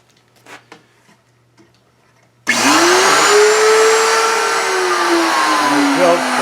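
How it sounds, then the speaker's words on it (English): A power tool cuts through a piece of scrap plywood, starting abruptly after a few faint knocks and running loud and steady for about four seconds as the blade bites, its pitch sagging slightly under load. "got a piece of scrap of plywood. I'm going to test how it cuts."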